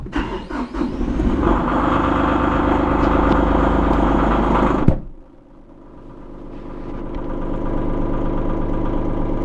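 A Massey Ferguson 1735M tractor engine runs loud and steady with a rough, rattling drone, then cuts abruptly and settles into a quieter rumble that slowly builds again, heard close by through an open door.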